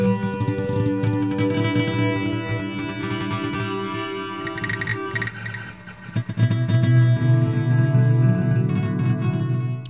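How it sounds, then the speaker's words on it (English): Granular synthesis with spray applied in Granulator 2, random grain start positions smearing a sustained musical tone into a shimmering, fluttering texture that breaks into choppier bursts midway, loud and with no talking. "You also have spray, and what spray will do is it will choose random start positions for these grains."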